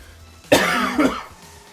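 A single harsh cough close to the microphone, quickly followed by a second rougher cough, then quiet.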